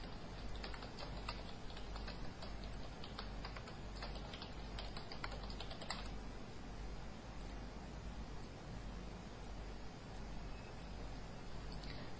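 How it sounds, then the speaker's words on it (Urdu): Typing on a computer keyboard while working in CorelDraw 12, a quiet, irregular run of light key clicks and taps over a steady low hum, denser in the first half. "ہم انٹر کر کے ٹائپ کریں گے"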